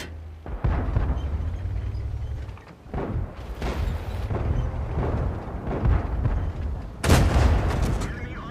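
A tank cannon fires in the World of Tanks game, driving the STRV M-41 light tank, with several loud booming shots and explosions over a low rumbling engine drone.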